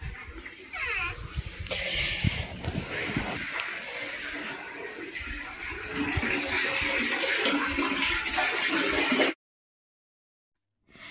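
Clothes are washed by hand with water, heard as close, continuous splashing and sloshing for about nine seconds before it cuts to silence.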